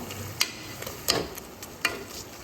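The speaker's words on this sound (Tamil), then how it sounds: "அதுக்கு இந்த மாதிரி நல்லா வந்து வதக்கி விடணும்" Masala for mutton biryani made with basmati rice is sautéed in a pan, with a low sizzle beneath a few sharp scraping strokes of the spoon spaced roughly every half second or more.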